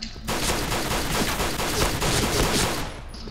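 Video game gunfire rattles in a dense, continuous barrage for about three seconds, loud and close with no pauses, and no voices over it.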